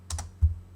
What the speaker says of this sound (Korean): 그래서 엔터 클릭.